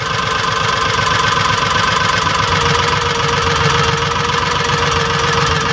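A Kawasaki Mule 3010 utility vehicle engine idles close up after carburetor installation, a loud, steady knocking chug whose revs sag slightly as the idle screw is adjusted.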